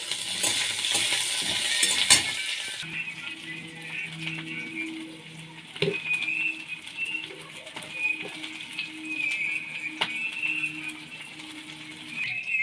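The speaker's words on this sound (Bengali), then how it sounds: "এখানে দেখুন আদা, রসুন, পেঁয়াজ, শুকনো লঙ্কা, গোটা গরম মশলা, অল্প একটু জয়িত্রী দিয়েছি। মশলাটা ভেজে তুলে নেব।" Ginger, garlic, onion, dried chili and whole garam masala with a little mace fry in hot oil, a soft steady sizzle with occasional clinks of a spoon stirring the pan, after a brief louder burst at the start.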